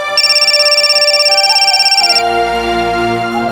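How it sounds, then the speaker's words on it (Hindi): A mobile phone ringtone rings loudly and close, a bright repeating electronic melody that then shifts into a fuller tune with low tones, with no talking. "आ गया फोन दामाद जी का, जा।"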